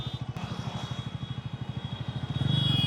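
A Bajaj Pulsar NS350z motorcycle being ridden, its engine thumping in a steady rapid pulse at moderate level, then swelling louder as it revs up near the end.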